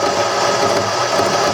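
A wood lathe spins an ambrosia tool handle blank while a smaller roughing gouge cuts it, giving a dense, steady grinding whir that stays loud and unbroken throughout, with no talking.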